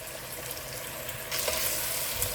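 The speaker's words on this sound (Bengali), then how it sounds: "যতক্ষণ না এই পেঁয়াজটা ভাজা হচ্ছে ততক্ষণ কষবো।" Onions frying and being stirred in a pan for malai chicken curry, a steady close sizzle that swells louder partway through, with no voices.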